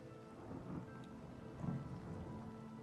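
Rain and rolling thunder from a storm, heard as a steady low rumble with two swelling thunder peaks and a constant patter of rain underneath, fairly faint and with no voices.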